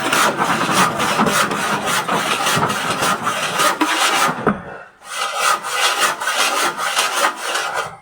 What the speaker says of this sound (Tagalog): Ayan po talaga yung pang-arawan na lagari